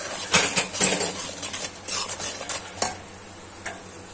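Ground turmeric, coriander, red chili, Kashmiri chili, garam masala and salt are stirred into a low-oil potato and parwal curry in a pan. A spoon scrapes in repeated close strokes over a soft sizzle.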